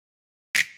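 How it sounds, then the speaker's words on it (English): A single crisp snap sample for a nu disco track, one sharp, bright hit after a moment of silence, with a short decaying tail. "We also have a snap. It sounds like this."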